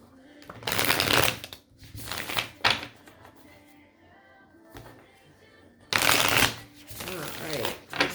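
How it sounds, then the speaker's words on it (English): Tarot cards being shuffled in several loud, close bursts of rapid riffling and flapping, separated by quieter handling, with brief speech in between. "I feel like I need to do one more shuffle for y'all."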